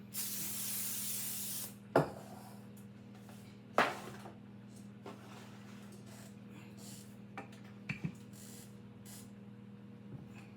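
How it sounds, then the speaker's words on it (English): Cooking spray hisses briefly onto the bottom of a baking pan for a peach and strawberry cobbler, a short burst at the start followed by light clinks and taps in a quiet kitchen. "I'm going to spray the bottom of my pan just a little bit."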